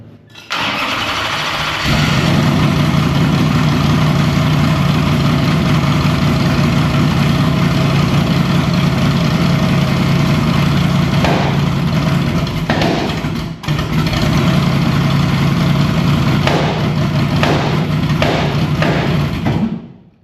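A newly installed racing motor cranks over, then catches and runs loud and rough with a misfire for most of the span, cutting out briefly near the middle before restarting and running on. No voices are heard.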